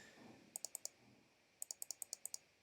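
Two quick pairs of sharp computer mouse clicks, each a crisp double click close to the mic, separated by a short pause, with a faint room hiss between them and no talking.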